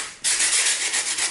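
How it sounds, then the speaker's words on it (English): A sanding block rubs steadily across polystyrene foam, a continuous dry, hissy scraping that starts abruptly after a brief quiet moment and holds even loudness throughout. "all I'm going to do is just take a sanding block and I'm just going to run that"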